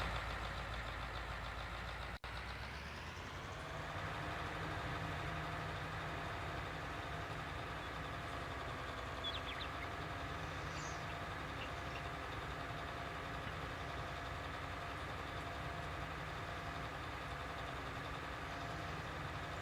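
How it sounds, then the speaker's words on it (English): A tractor engine in a farming video game runs at a steady, low idle-like drone throughout, with a brief clunk early on and no talking over it. "I'm certainly not struggling on this tractor."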